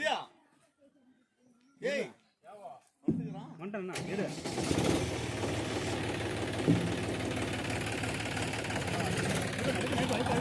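A tractor engine starts and runs at a steady, loud idle while a second tractor is loaded during a mango harvest. Brief voices come before the engine catches, then the engine runs on continuously, close by.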